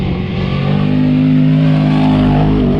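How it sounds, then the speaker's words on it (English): A loud, steady engine roar from off-road racing cars driving past close by, sustained and droning without pause. "I started doing some filming of the cars going by."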